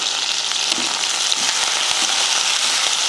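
Shallots and garlic sizzle and crackle steadily in hot oil in a pan, close and continuous with faint stirring scrapes, no talking.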